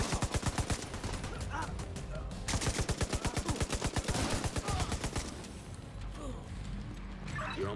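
Rapid automatic gunfire in The Division 2, steady bursts of sharp shots in long volleys, loud and close, with mechanical clatter between bursts.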